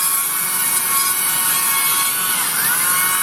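A Dremel rotary saw cuts into wood while carving a wood spirit wizard's beard, a continuous high-pitched whine that stays loud and steady throughout with no talking.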